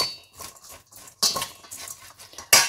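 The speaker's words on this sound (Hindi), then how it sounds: "इसको अच्छी तरह मिक्स करूंगी चम्मच के साथ" A spoon stirs and scrapes pakora spice mix in a bowl, giving intermittent clinks and scraping strokes, with a few sharper metallic taps near the end; close and moderately loud, no voices.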